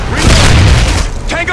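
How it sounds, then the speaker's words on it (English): In the online shooter Modern Warfare 2 during a team deathmatch, a flashbang grenade detonates with a loud, close boom and a ringing, crackling tail over about a second and a half. "Tossing a flashbang!"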